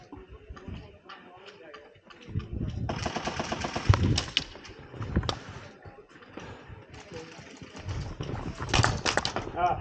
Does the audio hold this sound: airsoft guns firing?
yes